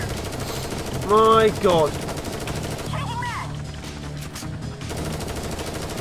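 Rapid automatic gunfire rattles through a firefight in the video game Strain Tactics, bursts sounding under excited talk from a player, with a sharp loud burst early on and steadier shooting afterward.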